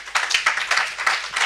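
A church congregation claps together in a dense, rhythmic burst of applause, loud and close with pulses about three times a second.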